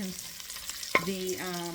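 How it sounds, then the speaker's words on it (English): Shrimp fried rice sizzles in a pan while a utensil stirs and scrapes, with one sharp clack partway through; no one speaks. "I'm going to give this a couple of more minutes of frying"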